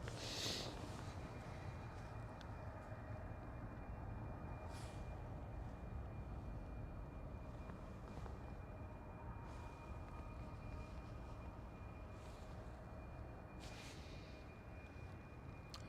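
A Boeing 777 at Amsterdam Schiphol spools up its jet engines in a steady, distant broadband roar with a faint high whine, rumbling on evenly throughout with a few brief higher bursts.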